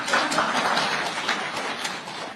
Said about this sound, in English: I thought you would clap.